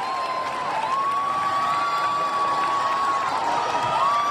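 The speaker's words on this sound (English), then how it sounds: "And it's a standing ovation from the crowd in Paris." A figure skating crowd in Paris gives a standing ovation after a women's short program at the 2009 Trophée Eric Bompard: a dense, steady wash of cheering and applause with a sustained whistle-like tone running through it.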